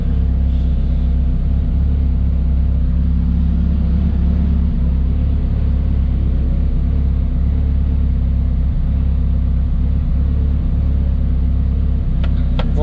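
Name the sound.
car motor idling inside a building, pumping through intercooler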